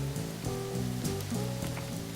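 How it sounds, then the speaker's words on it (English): Heavy rain pattering steadily on a hike up Standing Indian Mountain in the North Carolina Appalachians, a close, dense patter on rain gear and surfaces with no one talking. "Well, we got harder rain coming in."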